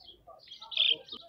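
Cage birds at a fair market stall, budgerigars and cockatiels, give a few short bright chirps and tweets, close and fairly faint, with a louder peak midway and no clear talk.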